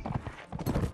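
Hooves clip-clop in a quick, steady rhythm as a horse gallops in the video game Mount & Blade: With Fire and Sword, loud and close, with a brief whinny-like tone mixed in.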